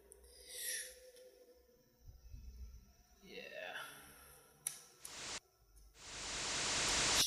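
Synthesized white noise from an Ableton Operator riser patch run through a 24 dB low-pass filter, heard as sweeping hiss bursts that open up and grow louder toward the end, with a final wide bright wash.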